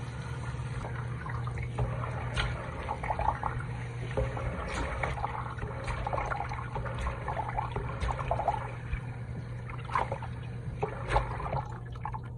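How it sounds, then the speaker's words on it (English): Water splashing and dripping as someone washes their face, soft irregular trickles and drips over a steady low hum, quiet and close. "So I'm gonna wash my face now."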